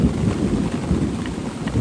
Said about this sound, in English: It is absolutely pouring. It's coming through my tarp.